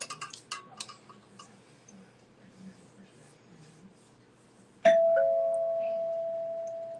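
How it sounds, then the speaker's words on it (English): A doorbell rings once at home during a livestream, a sudden bright chime that sustains and slowly fades, following several seconds of faint ticking and tapping noises. "Like, I knew it was a doorbell."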